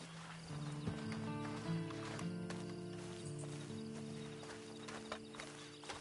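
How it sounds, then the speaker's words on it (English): In Red Dead Redemption Online, horse hooves clip-clop in a steady walking rhythm, moderately close, over low ambient game sound with a faint hum and no speech. "And you better get on this horse."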